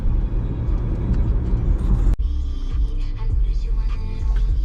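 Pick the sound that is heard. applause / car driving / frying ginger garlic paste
car driving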